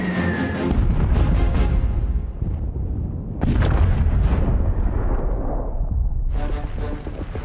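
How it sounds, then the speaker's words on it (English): Luftwaffe bombing attack on the Dunkirk beaches, with loud, near-continuous explosions and deep rumbling blasts that roll into one another, several fresh booms landing over a heavy low roar. "Goering orders his Luftwaffe to wipe out their defenseless enemy"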